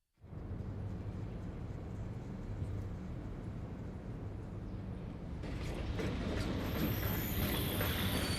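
A train rumbles past in the video game Master Detective Archives: Raincode, a steady, loud mechanical roar that swells toward the end as a brighter hiss rises over it, with no voices.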